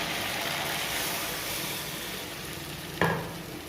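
Dhoka lentil cakes go into a pan of sizzling spiced potato gravy, producing a loud, dense, continuous frying hiss and crackle, with a sharp clatter partway through as something strikes the pan.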